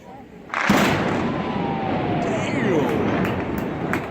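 Demolition blast at a 93-year-old structurally troubled bridge in Little Rock, a sudden loud boom after a brief quiet lead-in, followed by a sustained rumbling roar with a voice talking over it.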